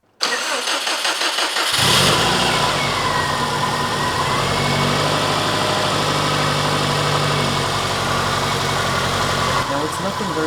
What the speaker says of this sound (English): now that we have the new engine running